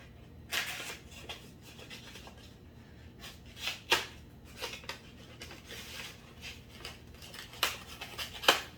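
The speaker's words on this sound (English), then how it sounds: "he's got some covers on the strings here, so I need to cut these off" Snips cutting protective covers off the ends of new guitar strings, a series of sharp close clicks and snips scattered irregularly over a quiet background.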